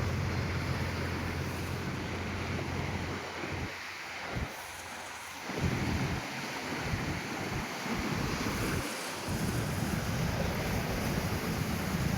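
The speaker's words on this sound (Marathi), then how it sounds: "लाटा बघा कसल्या जोर जोरदार चालले" Strong floodwater waves on the swollen river at Pandharpur, surging and rushing steadily with loud continuous roar, mixed with gusty wind buffeting the microphone, no one speaking.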